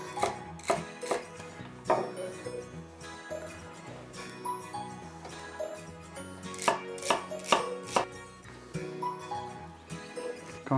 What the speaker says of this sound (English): I'm going to cut the celery in slices the same thickness as the onion.